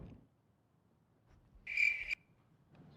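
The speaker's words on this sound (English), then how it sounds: "There's crickets in here." A short burst of cricket chirping, about half a second long, stands out clearly in an otherwise quiet room.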